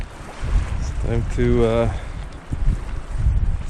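Wind gusts at a windy lakeside campsite in the Canadian wilderness, a steady broadband rush throughout with someone talking briefly over it.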